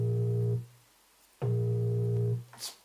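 Two sustained, low bass synth notes from a basic plug-in synth on an MPC, each held about half a second to a second with a gap of silence between, clean and moderately loud with no voices.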